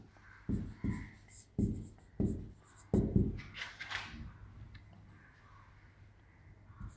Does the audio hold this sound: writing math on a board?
yes